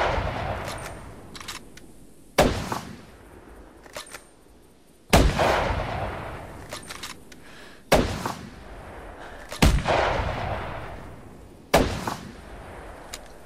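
Hunting rifle shots in the hunting video game The Hunter, set in the Hirschfelden reserve, five or six loud sharp reports spaced a few seconds apart, each trailing off into a long echoing decay.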